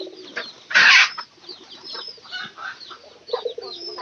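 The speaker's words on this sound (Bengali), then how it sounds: "ঘরের মধ্যে একটি মুরগি নাকি?" A chicken kept indoors clucks in a short loud burst, followed by softer scattered clucks and chirps close to the microphone in a quiet room.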